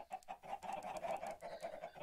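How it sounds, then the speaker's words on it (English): Several Minecraft chickens give soft, repeated clucks in a fairly steady rhythm, quiet and close, with no voices. "But I did manage to get a lot more chickens. A lot more chickens."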